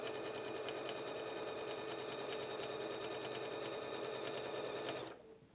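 A Pfaff Passport 3.0 sewing machine runs steadily at high speed during free motion quilting through fabric and batting, a continuous even whir with a fine rapid stitching pulse that stops abruptly near the end.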